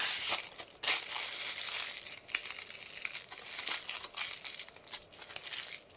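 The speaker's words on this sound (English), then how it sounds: "now you have all the icing into this new bag that you can cut really small. And then you can tie it." Plastic icing piping bag being twisted and tied, a close, continuous crinkling and rustling of thin plastic with brief sharper crackles throughout.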